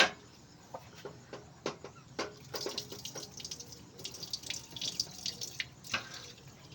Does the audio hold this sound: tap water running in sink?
yes